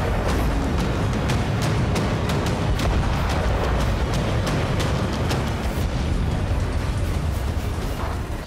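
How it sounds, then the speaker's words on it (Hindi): Rockets and bombs explode on army bases in Quneitra during the Syrian civil war, producing a continuous loud barrage of booms and sharp crackling blasts with no pauses. "धमाके से सैन्य अड्डा दहल गया और पूरा कुनितारा थर्रा उठा"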